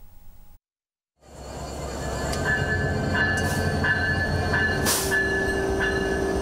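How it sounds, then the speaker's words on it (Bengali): A special goods train carrying agricultural produce from Rohanpur in Chapainawabganj toward Dhaka rolls past: after a brief silence a heavy rail rumble swells and holds steady, with faint wheel squeals and occasional sharper metallic bursts. "চাঁপাইনবাবগঞ্জের রহনপুর থেকে রাজধানীর উদ্দেশ্যে যাত্রা কৃষি পণ্যের বিশেষ এই ট্রেনটির।"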